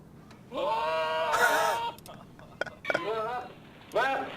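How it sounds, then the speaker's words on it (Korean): A goat bleats in two or three wavering, nasal calls, loud and close, with short pauses between them and faint voices at low level in the background. "염소 소리라는데?"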